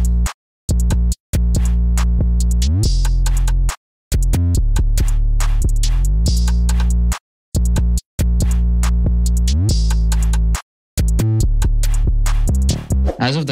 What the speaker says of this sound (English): As of the drums, the whole pattern sounds like this.